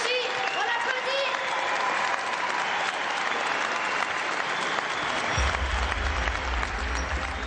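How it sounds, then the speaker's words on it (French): An audience applauds to welcome a guest to a televised talk show, with dense, sustained clapping throughout and a brief voice over it near the start. "On l'applaudit."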